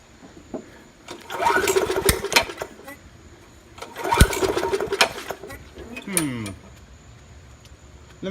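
A Rally 20-inch push mower engine, run without its air filter, sputters and catches in two short bursts of rough running, each dying away, with a quieter mechanical rattle near the end.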